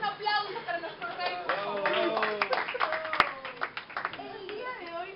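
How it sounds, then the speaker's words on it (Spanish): Scattered applause and hand clapping for a crowned 'king of love', mixed with voices and chatter throughout, with one sharp louder clap near the middle. "Un aplauso para nuestro rey."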